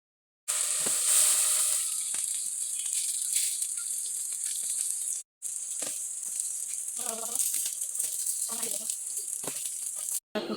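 Chopped onion sizzles loudly in plenty of hot cooking oil for a Bangladeshi rohu fish curry with potato and taro, a steady broad hiss that cuts out briefly twice, with faint voices underneath.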